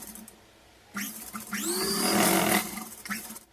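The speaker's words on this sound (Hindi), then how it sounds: "अब ये हुक की पट्टी लगानी है हमें इस पे और सिलाई लगानी है।" A sewing machine stitches a hook strip onto a padded blouse with a quiet whirring motor. It rises into a louder, faster burst of stitching for about a second, then eases off, close and without talk.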